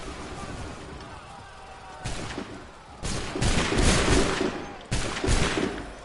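Musket volleys in Assassin's Creed III Remastered: three sharp, loud massed blasts a second or two apart, each a dense crackling roar of many muskets firing together, over faint background ambience and occasional voices.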